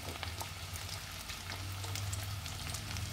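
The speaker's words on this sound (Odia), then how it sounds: "ପିଆଜ ଆଉ କ୍ୟାପ୍ସିକମ୍ ପକେଇଦେବା।" Onion and capsicum frying in a pan for chilli chicken give a steady, dense sizzle with crackling pops and a low hum underneath, continuous for the whole stretch with no voices.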